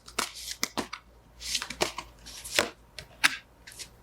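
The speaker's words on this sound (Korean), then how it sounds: "그러면 조언 카드를 뽑아볼까요?" Tarot cards being shuffled and drawn, heard as quick crisp riffling and slapping bursts, close and fairly quiet, in an irregular rhythm with short pauses between.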